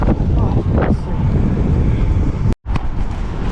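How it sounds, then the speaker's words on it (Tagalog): Heavy wind roaring across the microphone, loud and continuous, with a voice mixed in briefly and a short dropout near the end. "Wala, sobrang hangin."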